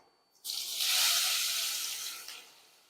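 Chopped onions dropped into hot oil tempered with spices burst into a sudden loud sizzle that holds steady and then slowly fades, close up and with no voices.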